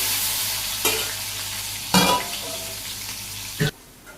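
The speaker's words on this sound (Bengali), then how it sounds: "তো নেড়ে চেড়ে হালকা তুলে দিই।" Potatoes fry with cumin seeds and green chillies in a pan, sizzling steadily while a spatula gives three distinct louder stirring scrapes, close by and without speech.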